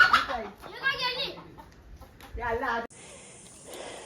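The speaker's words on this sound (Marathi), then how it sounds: "कोंबडी सुटलेली आहे. कोंबडी पळाली आमची." A loose, running chicken clucks in short bursts amid people talking nearby, followed by a steady hiss in the background.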